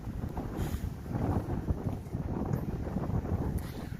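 Wind buffeting a microphone outdoors during a walkabout, a steady low rumbling roar with gusting swells that runs for the whole stretch, loud and close, with no voices.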